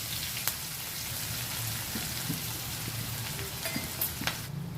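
Thinly sliced onions fry in hot oil with cumin seeds, caraway and cloves, giving a soft, steady sizzle with faint crackles and a few light stirring taps.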